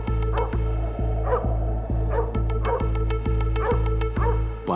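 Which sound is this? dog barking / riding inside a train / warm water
dog barking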